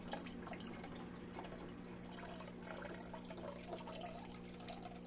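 Water pours steadily into a small SPS pico reef aquarium, a continuous close splashing and trickling that runs the whole time over a low steady hum from the tank equipment.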